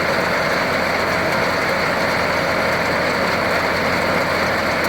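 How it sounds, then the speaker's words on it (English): A round baler ejects a bale in a field near Sahnewal while the tractor engine runs loud and steady throughout, a dense close mechanical drone with no pauses. "Baler is extracting bale."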